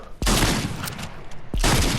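In Fortnite, a gunshot hits an enemy: two sharp, loud blasts each followed by a dense, noisy rush of sound, spaced about a second apart.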